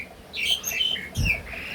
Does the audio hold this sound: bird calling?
yes